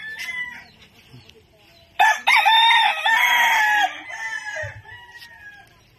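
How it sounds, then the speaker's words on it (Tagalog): A rooster crows loudly and nearby in the middle, with softer clucking and bird calls before and after, at a rural home in the Philippines. "ayan, may manok."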